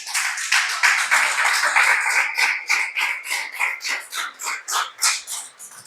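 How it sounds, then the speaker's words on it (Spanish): Congregation clapping in rhythm during a church service, a dense steady patter of many hands that grows looser and more pulsed toward the end, with no voices over it. "Dar un aplauso a Él."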